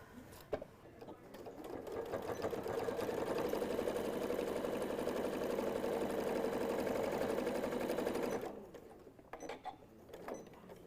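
A sewing machine top stitches the seam of a stuffed fabric nativity piece, its fast even whirr running steadily for about seven seconds, bracketed by a few short bursts and handling clicks before and after.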